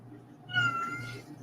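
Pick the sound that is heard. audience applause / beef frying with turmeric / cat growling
cat growling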